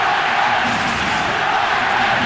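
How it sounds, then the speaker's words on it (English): A football crowd roars and cheers in the stadium during an Adelaide United v South Melbourne NSL finals match, a dense, sustained wash of many voices filling the whole stretch without a break. "And this crowd has sprung to life."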